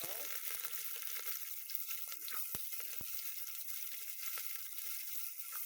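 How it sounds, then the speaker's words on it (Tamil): Onions sizzle faintly in hot oil with cinnamon and cloves for a village chicken curry, a soft steady hiss broken by a couple of sharp clicks. "இப்போ வெங்காயம் சேர்க்குறோம்."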